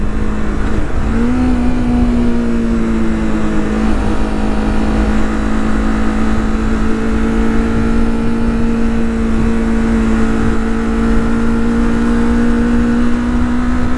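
A motorcycle engine held at high revs in third gear, around 6,000 to 7,000 RPM, during an oil test: a steady, loud, continuous drone that climbs in pitch early on, then sustains evenly with no talking.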